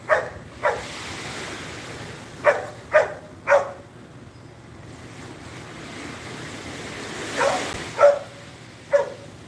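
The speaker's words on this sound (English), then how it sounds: "so he's down there barking" A dog barks several times at a distance, short separate yaps scattered over steady surf and wind noise.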